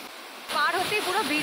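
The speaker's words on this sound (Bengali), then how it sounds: "এবং এর নাম হচ্ছে মালসেজ ঘাট ওয়াটারফলস।" The Malshej Ghat waterfalls make a steady, rushing roar of falling water, and a voice starts talking over it partway through.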